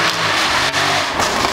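A Ford Mustang's 5-litre supercharged V8 revving loudly nearby at a supercar weekend run, a steady roaring engine note that surges briefly, no speech.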